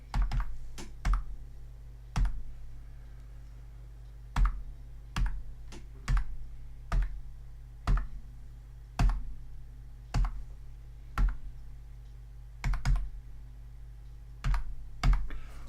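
Someone keys a long card number on a computer keyboard, producing close, sharp clicks that come in quick bursts with short pauses between them against a steady low hum, and nobody speaks.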